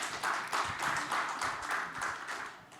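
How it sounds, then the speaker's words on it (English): Modest audience applause greeting guests joining a business panel on ESG strategy, rhythmic individual claps forming a steady, moderately distant patter with no talk. "warm applause for them"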